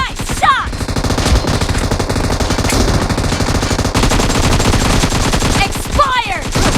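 Dense, loud automatic gunfire in a PUBG Mobile match played on a Xiaomi Mi 11, rapid bursts of shots rattling almost nonstop, with brief whooshing effects at the start and end.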